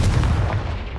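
Hogwarts Legacy's Confringo spell goes off as a sharp, booming blast that fades quickly into low, rumbling combat noise in the video game.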